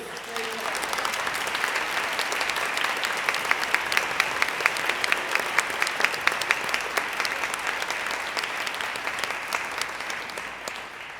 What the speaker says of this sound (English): can we please just applaud them for making a place for each other